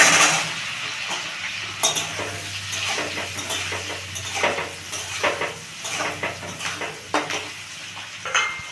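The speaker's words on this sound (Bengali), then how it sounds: "এটাতে আমি ক্যাপসিকাম আর পেঁয়াজ আমি ভেজে নেব" Capsicum and onion being lightly fried in two spoons of white oil, a soft sizzle under repeated scraping and clacking of a utensil against the pan in irregular strokes, close by with no talking.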